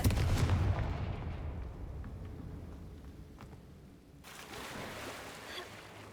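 The Confringo blasting spell in Hogwarts Legacy sets off a loud explosive boom that rolls into a long fading rumble, followed by a fresh burst of noisy crackle.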